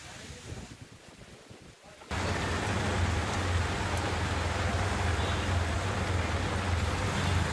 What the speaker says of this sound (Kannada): ಬೆಂಗಳೂರಿನ ಹಲವೆಡೆ ಇಂದು ಸಂಜೆ ಗುಡುಗು ಮಿಂಚು ಸಹಿತ ಧಾರಾಕಾರ ಮಳೆ ಸುರಿಯಿತು